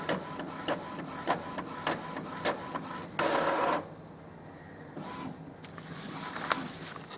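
An Epson XP-3100 inkjet printer runs a print job on plain copy paper, with a rapid patter of print-head passes and clicks, a louder paper-feed whir midway, then quieter mechanical ticks; no one talks.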